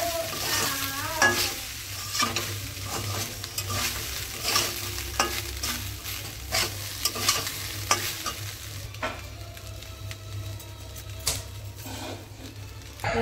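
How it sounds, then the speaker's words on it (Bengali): Rice being stir-fried at home in a pan with spice powder mixed in: a continuous, busy sizzle with frequent scraping strokes of the spatula, close and steady throughout with no talk. "এইভাবে আমি বাকি ভাতগুলোকেও ভেজে নেব"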